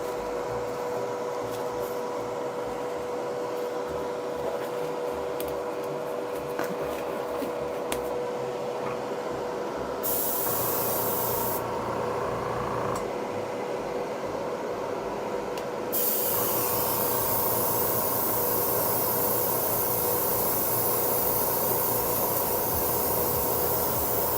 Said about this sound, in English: That's kind of just how the airbrushing process works.